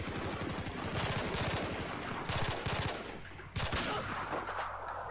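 Rapid bursts of automatic gunfire from a shooting video game rattle in quick succession, loud and close, with short pauses between volleys and a final burst before quieter background noise.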